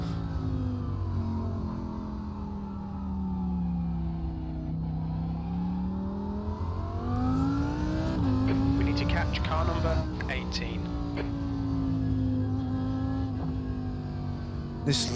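A Lamborghini GT3 race car in iRacing at the Charlotte Roval, its engine droning steadily with smooth rising and falling pitch as it accelerates and shifts, loud throughout, with a voice talking over it.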